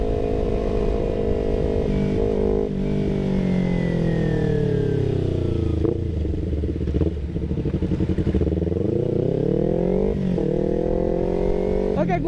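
Kawasaki Ninja 250 Fi motorcycle with a remapped ECU revving hard and continuously, engine pitch sweeping up and down through the gears at close range with wind noise, no talking.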